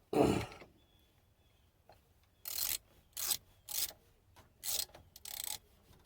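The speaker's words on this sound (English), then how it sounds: "Then you just tighten the bolts up on the back." Bolts being tightened on the back of a reassembled truck starter, heard as a loud opening burst followed by five short, distinct ratcheting or rasping bursts at a steady pace, close up, with no talking.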